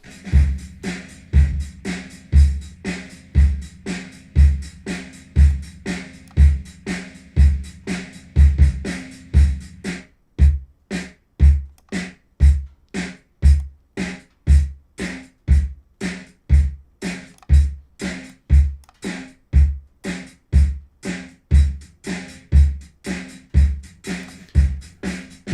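A drum kit, recorded with a couple of front-of-kit mics, plays a steady groove with punchy kick and snare hits, close and loud, with the pattern tightening after a short break midway.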